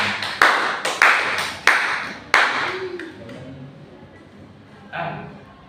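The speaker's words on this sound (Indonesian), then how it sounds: "kita beri tepuk tangan dulu kepada Nak Yogi karena sudah memberikan" A counseling-group session breaks into a short run of claps, a handful of loud, evenly spaced strikes as if clapping together, fading out before a lone clap near the end.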